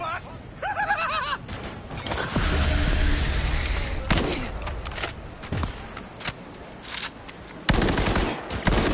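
Gunfire in Cyberpunk 2077 firefights: rapid bursts of automatic shots and sharp single cracks over a steady background rumble, with voices talking between the volleys.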